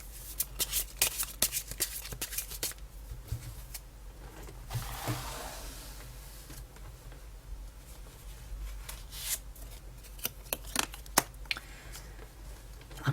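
Tarot cards being shuffled by hand during a reading, a dense run of soft riffling and slapping card noises that carries on steadily for the whole stretch, close up and alone with no talking.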